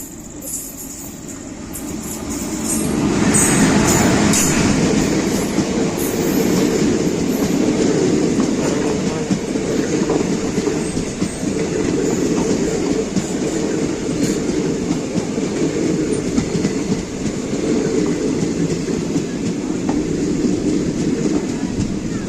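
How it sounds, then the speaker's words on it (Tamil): The Tirupati–Mannargudi Pamani Express rumbles past on the opposite track at a crossing station, a long, loud, steady roar of wheels and carriages with faint clatter, heard from a waiting train. "எதிர்க்க பார்த்தீங்கன்னா திருப்பதி மன்னார்குடி பாமணி எக்ஸ்பிரஸ் வந்துட்டு இருக்கு"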